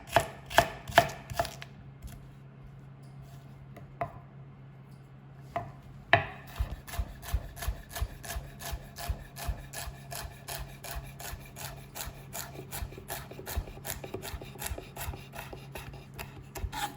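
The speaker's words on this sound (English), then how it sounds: "I'm just going to cut some small, very small dices of celery" A knife chops celery into very small dice, a fast, steady run of crisp close-up chops with a brief pause early on, and no voices.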